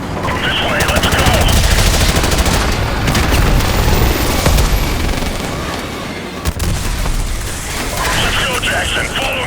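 Sustained automatic gunfire and explosions fill a night battle in the Call of Duty Modern Warfare Remastered game, dense rattling bursts with booms, loud and continuous.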